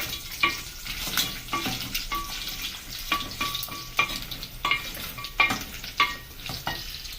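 Pork fries in cooking oil in a sufuria while it is stirred, giving a steady sizzle broken by repeated scraping strokes of the utensil against the pan, close and fairly loud, with no talking.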